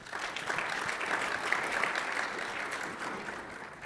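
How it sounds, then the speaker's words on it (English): A conference audience gives steady, even applause at moderate distance, a continuous wash of many hands clapping with no voices over it. "Please give them a warm round of applause"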